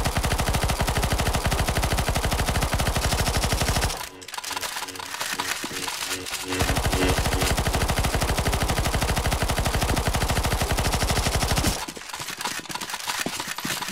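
Rapid automatic gunfire from many players in CS:GO Zombie Escape on a Star Wars prequel map rattles loudly and almost nonstop, breaking off briefly twice before resuming in dense bursts.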